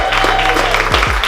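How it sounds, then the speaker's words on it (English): An audience claps and cheers at a motivational pep rally, a dense, steady wash of applause throughout the short moment. "Give yourself a round of applause."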